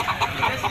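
Live village chickens cluck in a busy Indonesian market, a close, repeated series of short clucks in an uneven rhythm with no talk over them.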